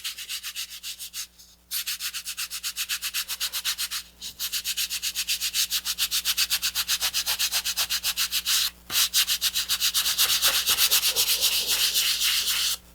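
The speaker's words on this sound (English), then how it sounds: "I'm going to be sanding for a while" Close, rhythmic back-and-forth sanding strokes rasp continuously against a model rocket's hard surface, with a few brief pauses between runs.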